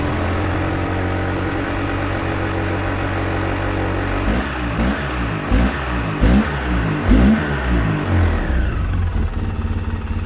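A Polaris Sportsman 700 twin-cylinder ATV engine idles steadily, then revs hard in repeated throttle blips with rising and falling pitch, loud and close, with no talking.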